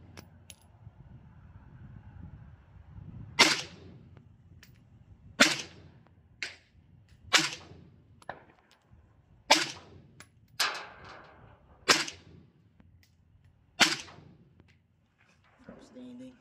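Suppressed gunfire from a PSA Krink AK-74U rifle at an outdoor range, about nine sharp, close reports fired in an uneven string, several in quick pairs, with quiet gaps between them.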